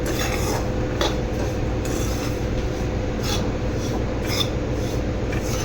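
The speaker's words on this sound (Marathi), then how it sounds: "आता चांगला गोल्डन कलर येईपर्यंत आपल्याला हा रवा मिक्स करून घ्यायचा आहे." Semolina (rava) roasting in ghee is stirred steadily in a pan, a continuous gritty scraping and rubbing with periodic louder strokes, close and dense, with no talking.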